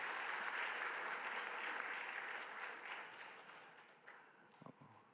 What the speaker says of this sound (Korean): 우리 십교구에게도 우리 격려의 박수 다시 한번 하겠습니다.